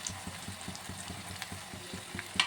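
Garam masala, turmeric, red chili powder, curry leaves and a bay leaf fry in hot oil with a soft, continuous sizzle and faint rhythmic ticking, quiet and close, no voices.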